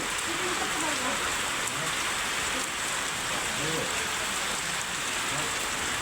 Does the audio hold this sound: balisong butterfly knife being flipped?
no